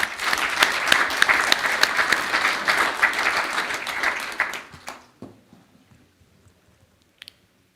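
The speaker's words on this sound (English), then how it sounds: "please give the International Olympic Committee and Thomas Bach a big round of applause" Audience applause in a conference hall at the World Boxing Congress in Rome, honoring the International Olympic Committee: dense, loud clapping for about five seconds, then quickly thinning to scattered claps and near silence.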